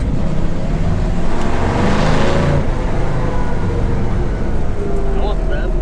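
A 1966 car engine struggling to rev up during a short drive into a school parking lot, a loud, steady, strained drone with rising tone partway through, close to the microphone.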